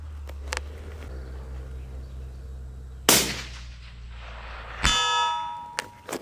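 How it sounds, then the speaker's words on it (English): A bullet from a suppressed 17 WSM Winchester rifle hits a distant steel target. A muffled shot is followed by a sharp metallic clang with a ringing, fading ding, and a quieter second clang comes near the end. "I definitely heard that one hit steel."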